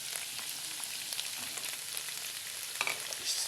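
Tender beef for a special beefsteak fries in a pan, giving a steady, close sizzle with a few faint clicks of stirring and no talk.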